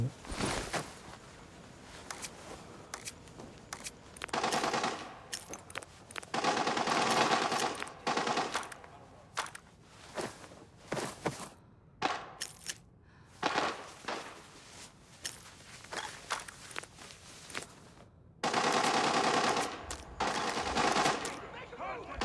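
Automatic gunfire rattles in the shooter game Arena Breakout. Bursts of varying length come from near and farther away, separated by short pauses, and a few quieter footstep-like sounds fall between the volleys.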